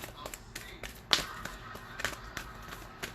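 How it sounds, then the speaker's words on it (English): Tarot cards are shuffled with quick, light riffling snaps and taps in an irregular rhythm, close and fairly soft, with no talking. "All right. Last shuffle."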